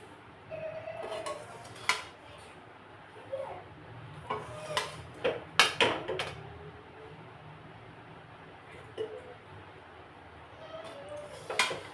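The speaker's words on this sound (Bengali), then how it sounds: "এখন আমি রাইসগুলো হাঁড়ির মধ্যে দিয়ে দিচ্ছি।" Rice being added to a cooking pot while making spiced masala rice, scattered clinks and taps of a utensil against the pot, quiet and sparse with a few sharper knocks in a calm kitchen.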